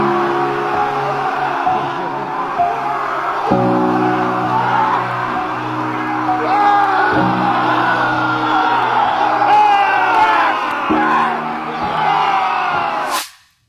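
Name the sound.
shirtless men screaming at a waterfall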